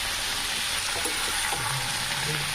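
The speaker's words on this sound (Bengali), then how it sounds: "উচ্ছে দিয়ে পেঁয়াজ দিয়ে ভাজা হচ্ছে" Bitter gourd and onion sizzle steadily in a hot pan, a dense close hiss of frying with faint stirring sounds and no speech.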